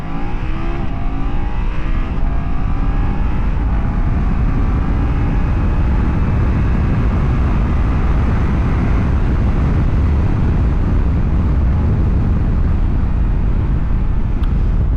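A 2024 BMW F800GS motorcycle accelerating under steady heavy wind roar, the engine tone climbing through the opening seconds and then buried in a constant loud rush of air.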